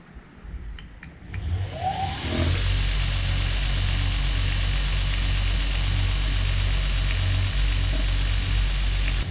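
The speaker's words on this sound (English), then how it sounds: "let's get right into some knife grinding" A knife blade being ground on a powered grinder in a small workshop, the motor spinning up after a few light taps, then a steady loud whine and rasp held continuously without speech.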